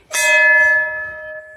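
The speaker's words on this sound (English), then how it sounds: "So there is a bell, you have to do it like this." A traditional mountain temple bell at Bijli Mahadev in Kullu is struck once, giving a loud, bright metallic clang that rings on with a steady, slowly fading hum.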